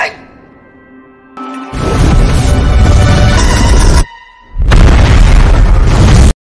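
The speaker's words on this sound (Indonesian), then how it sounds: "api pun mulai bertambah besar hingga membuat tabung oksigen pun terbakar dan menyebabkan ledakan yang besar" Massive explosions of a burning oxygen tank in a room in a film scene, two loud roaring blasts each lasting a couple of seconds and separated by a brief lull, with dense rumbling debris noise.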